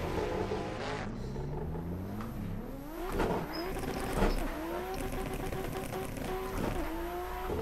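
In a racing game, a drift car with an N55-based engine note revs and wails, rising and falling in pitch through repeated throttle blips and shifts.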